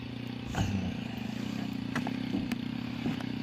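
A Jawa motorcycle on a slippery, muddy off-road track in Mandalpatti, Coorg: a steady engine hum with scattered clatter and scraping bursts as the wheels slide, fairly quiet and without talk.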